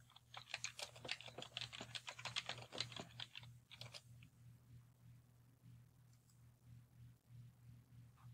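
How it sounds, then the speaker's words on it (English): An address is typed on a computer keyboard: a quick close run of soft key clicks for about four seconds, then quiet with a low hum. "Or you can type in an exact address."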